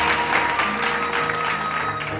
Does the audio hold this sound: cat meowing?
no